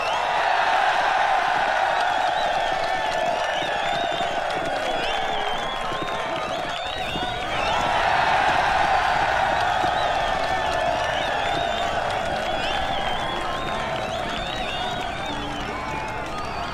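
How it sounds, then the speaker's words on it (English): A large crowd cheers in the fantasy video game Siege of Dragonspear, a dense roar of many voices that holds steady throughout and swells again midway, loud and close. "Cheering for a sibling of Sarva."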